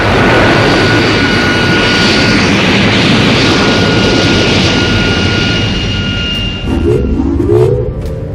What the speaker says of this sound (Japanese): よし、エンジンを止める。 3、2、1、エンジン停止。